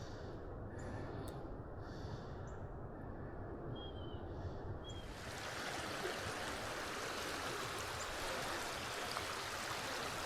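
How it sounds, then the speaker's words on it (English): Running water of a stream flowing over limestone layers, a steady broadband rush that stays continuous and fairly close throughout, growing slightly fuller and louder midway, with no talking. "Love the sound of running water."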